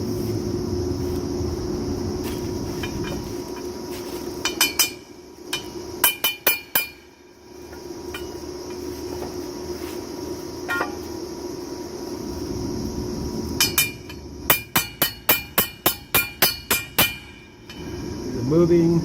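Sharp metallic hammer strikes on the U-joint of a 1989 Ford F-150, landing in two quick bursts of rapid ringing blows, close and loud, with steady background noise between them.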